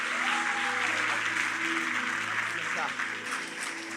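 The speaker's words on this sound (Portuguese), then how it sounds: "Você pode aplaudir Jesus." Congregation applauding Jesus during a church service, a steady wash of clapping that holds loud for about four seconds, with a voice and sustained tones underneath.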